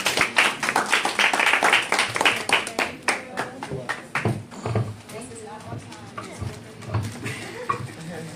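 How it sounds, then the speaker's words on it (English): Clapping from a small audience at a nonprofit networking group's skills workshop, dense at first, then thinning into scattered claps that trail off, with voices murmuring underneath. "Everybody give her a round of applause."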